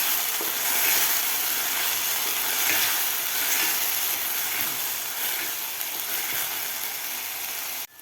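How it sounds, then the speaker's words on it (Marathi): Tomato puree frying with onions in a pan for masala dahi bhindi: a loud, steady, close sizzle with a soft hiss that runs unbroken for the whole stretch and cuts off abruptly at the end. "आता यामध्ये घालायची आपल्याला टोमॅटोची प्युरी टोमॅटोची सुद्धा आपल्याला व्यवस्थित फ्राय करून घ्यायची आहे"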